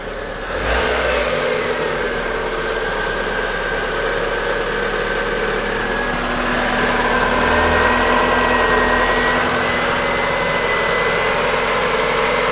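A Mazda MX5 MK1 (MX-5 Miata NA), just repaired after a snapped cambelt, idles steadily up close, a loud, even engine hum with a slight rise in revs partway through, no voices over it.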